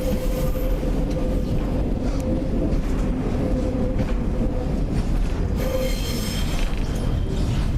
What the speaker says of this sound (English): It's a Tyne Valley Metro train going across the bridge.